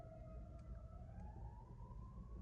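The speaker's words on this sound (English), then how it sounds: "I've got the ambulance coming by." Ambulance siren passing by, a steady wailing tone that slowly rises in pitch, sounding fairly distant over constant low traffic rumble, with no talking.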